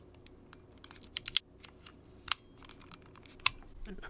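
Small plastic clicks from the minus button on a Nintendo Switch 2 Joy-Con, a scattered run of light, sharp taps close up, some louder than others, against a quiet background.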